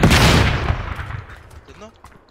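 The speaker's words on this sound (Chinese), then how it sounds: "我拿火箭筒，哦，你拿吧，轰他" A rocket launcher fires in a video game with a loud booming blast that decays into a rumbling tail, while voices talk faintly near the end.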